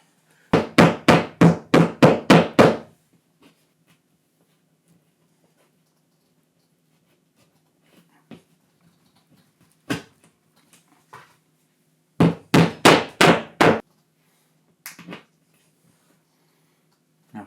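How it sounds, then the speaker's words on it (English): A quick burst of sharp hammer taps on a small plastic wall toggle anchor, then quiet with a few isolated knocks, followed by another short run of taps. "Tap that with a hammer."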